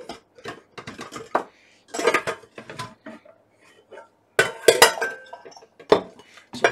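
Clinks and knocks of a rice cooker's inner pot being handled as rice is moved into it, a string of close, uneven bursts with short pauses between them and no talking.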